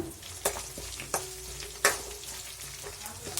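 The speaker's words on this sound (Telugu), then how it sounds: "ఎర్రగడ్డలు కొంచెం కలర్ షేడ్ అయ్యేంత వరకు నూనెలో బాగా ఉడికించుకోండి" Onions, with mustard seeds, curry leaves and crushed garlic, fry in oil with a steady close sizzle, broken by a few sharp scrapes and knocks as a spoon stirs the pan.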